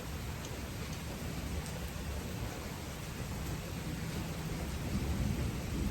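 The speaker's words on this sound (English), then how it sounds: "maybe not during a thunderstorm like this" A thunderstorm with steady heavy rain, a dense continuous hiss of rainfall on surfaces with a low thunder rumble underneath, fairly close and constant with no talk.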